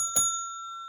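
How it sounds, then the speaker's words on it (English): A single bright bell ding rings out once, crisp and close, then its clear tone hangs and slowly fades in an otherwise quiet room. "I'll give you the bell."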